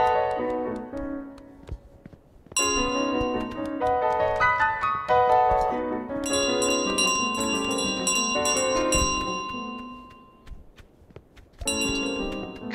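Metallic bell jangling from the goose carrying it in Untitled Goose Game, ringing in bursts of bright overlapping strikes with repeated rhythmic clangs, loud and close, with short pauses between runs.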